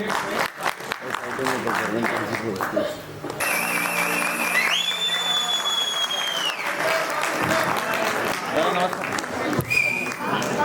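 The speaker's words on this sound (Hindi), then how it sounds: "जोरदार तालियां प्रशांत जी के लिए।" A crowd applauds at a stage event with an anchor and singer, a short burst of clapping at the start followed by a voice and a sustained electronic tone over a continuing hum.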